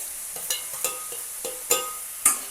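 Chopped beans, carrots and onion frying in a pan while being stirred with a utensil, a soft sizzle under a series of light scraping taps, about half a dozen spaced strokes, close and fairly quiet with no talking.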